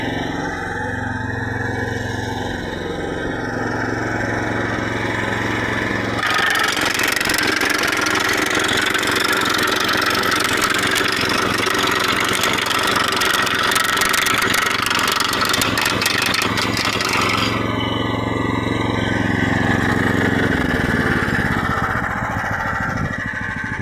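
A 13 hp petrol engine on a wood chipper runs steadily, rising to a harsher, louder roar partway through and then settling back to a rough idle.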